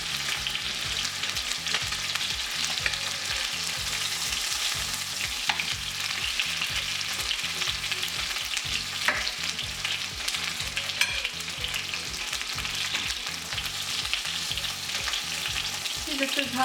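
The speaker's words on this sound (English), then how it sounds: "This is how it looks when you fry your chicken pieces." Chicken pieces sizzle and crackle steadily in hot oil, close and continuous, with occasional stirring clatter.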